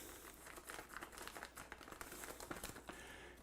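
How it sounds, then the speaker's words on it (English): A plastic bag is opened for packing cured bacon, giving quick, close, continuous crinkling and rustling that is faint overall, with no talking. "we're just going to open our plastic bag up"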